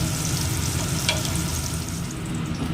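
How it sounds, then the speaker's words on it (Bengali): Pointed gourds (potol) frying lightly in a pan of oil, a loud, steady sizzle with stirring scrapes throughout. "দেখুন আমি হালকা করে হালকা করে পটলগুলো ভেজে নিচ্ছি"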